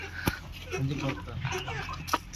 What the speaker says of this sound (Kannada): ನಮ್ ಫ್ರೆಂಡ್ಸ್ ಕೋಳಿ ಹಿಡಿದ್ರೆಲ್ಲ ನೋಡಂಬರ್ರಿ